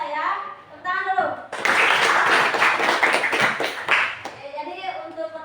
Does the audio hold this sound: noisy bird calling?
no